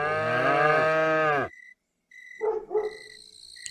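One long, loud cartoon cow moo close by, followed by a short silence and some softer, rougher animal calls.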